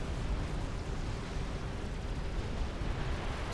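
Mobile missile launcher shots hitting a commander unit in Supreme Commander: Forged Alliance, heard as a dense, continuous rumble of overlapping explosions and booms at a fairly steady level, with no talk.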